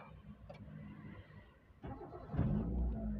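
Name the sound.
engine of a 2002 Kia Visto Zip Drive starting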